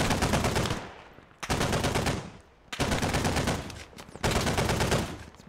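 Automatic gunfire in the military shooter game Squad, four loud sustained bursts of rapid shots separated by short pauses, close and dense.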